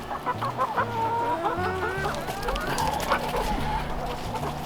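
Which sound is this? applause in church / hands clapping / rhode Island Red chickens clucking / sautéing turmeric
rhode Island Red chickens clucking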